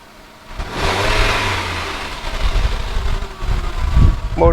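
A flood-damaged 2013 Hyundai Sonata engine is revved hard from idle, climbing to a loud, strained roar that stays up with uneven surges before easing slightly, close up and without talk.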